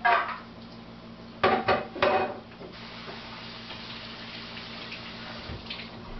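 Soaked almonds are strained and rinsed under water: a running, splashing stream with a few clinks and knocks of a strainer or dish early on, then a softer steady flow.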